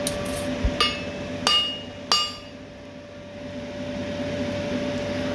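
Three sharp metallic hammer strikes ring out on steel being cut off at a blacksmith's forge to make tong nibs, each hit leaving a bright ringing decay over a steady low hum of workshop machinery.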